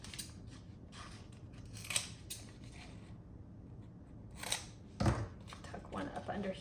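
Scissors snip through paper flowers for a junk journal, a few crisp cuts at close range with soft handling noise between them and a voice speaking around the cutting.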